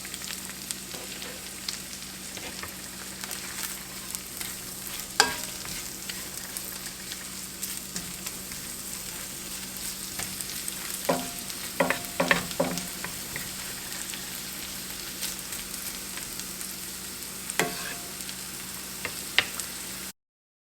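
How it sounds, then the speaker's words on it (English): Chipped beef frying in melted butter in a pan, a steady soft sizzle with occasional crackles and faint stirring clicks, close and fairly quiet with no talking. "now that the butter's melted, I'm just going to put my beef in there and let it cook for 2 or 3 minutes"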